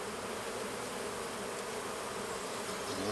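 Dense, steady buzzing of many honeybees close by during an artificial swarm hive split, a continuous drone with no pauses and no voices.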